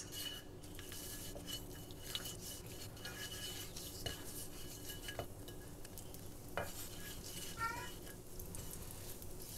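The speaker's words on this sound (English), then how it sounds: "I'm just toasting my seeds a little in order to help to bring out the flavor" Cinnamon stick, dried chili, cumin seeds and coriander seeds toast in a pan with salt, making a soft steady sizzle broken by occasional light scrapes and clinks of a utensil against the pan, faint and close.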